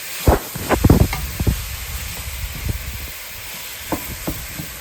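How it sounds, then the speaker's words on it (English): Beef browning in a pan alongside onions, with a soft background sizzle broken by several close scraping and stirring knocks, heaviest early on, then quieter intermittent taps. "Now I'm going to brown this meat and cook it until it's all the way done"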